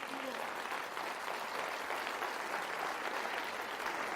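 A congregation applauds the Lord during a Spanish-language church service, giving dense, continuous clapping that fills the room at an even level from start to finish, with no voices rising above it.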